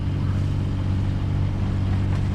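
A sailboat's inboard engine drives it along under power, with a steady, loud, low droning hum running continuously without speech.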